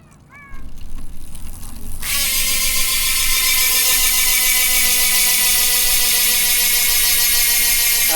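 Steady, rapid buzzing ratchet of a Speed One Soldier MTB freehub freewheeling on a 29-inch mountain bike with a disc wheel cover, starting quietly then becoming loud and continuous after a couple of seconds; no talking.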